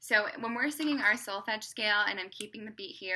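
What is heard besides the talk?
No everyday noise stands out behind the speech.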